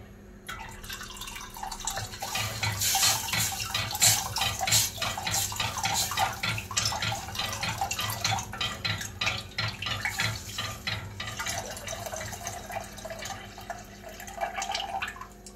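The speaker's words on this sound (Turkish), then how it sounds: "Şimdi suları ilave ediyoruz." Water pouring steadily into a cooking pot for Kütahya-style Gediz tarhana soup, a continuous splashing, trickling stream that stays fairly close and even throughout.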